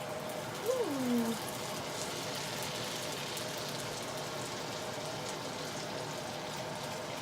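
Lumpia, Filipino egg rolls, fry three or four at a time in oil heated to 375°F, giving a steady soft crackling sizzle throughout, with a brief whistle-like tone near the start.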